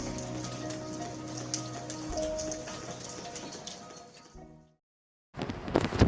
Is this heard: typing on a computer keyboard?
no